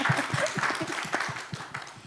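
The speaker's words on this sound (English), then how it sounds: "We can keep clapping until Jesse listen." Scattered claps from a conference audience at a Skoll 2025 session, a loose irregular patter of hands that tapers off quickly.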